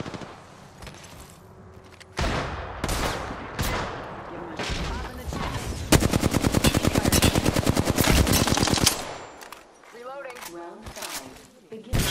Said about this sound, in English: Danger! Getting shot at.